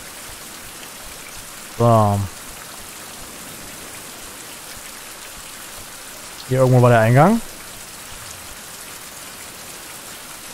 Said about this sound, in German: Das regnet auch ziemlich oft hier.